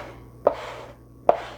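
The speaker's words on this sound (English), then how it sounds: "I'm scraping up all my garlic to take with me" A scraper gathering chopped garlic off a cutting board, two distinct close knocks, each followed by a short dry scrape, over a low hum with no voices.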